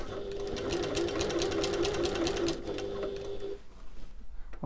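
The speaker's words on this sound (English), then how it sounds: "Right, so I'm going to baste this into place along the side and bottom edges." A sewing machine on its longest stitch length bastes the side and bottom edges of a backpack panel, a close, even run of rapid needle strokes for about three and a half seconds before stopping with a few clicks.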